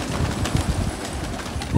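Racing pigeons come in and land, with soft cooing and light wing flutters close by under a steady background hum.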